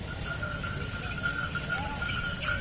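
A pair of bullocks walks at a bullock market in Chopda, with faint hoof steps and a light bell jingle over a busy outdoor crowd murmur.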